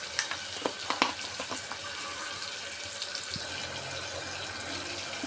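Tomatoes and salt cook in hot oil for a mutton curry, giving a soft, steady sizzle with a few light clicks and pops near the start.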